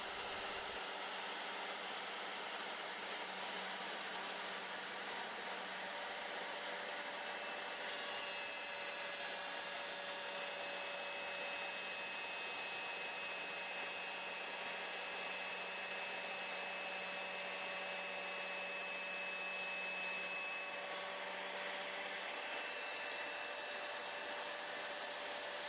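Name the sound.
GMC laminate saw cutting a workpiece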